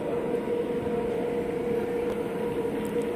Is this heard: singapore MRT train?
yes